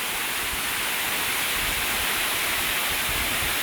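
Waterfall No. 4 of the Maliboda Eli Hatha falls in Uda Maliboda, Sri Lanka, cascading as a steady, dense broadband roar of rushing water, loud and close, unbroken and alone with no voices.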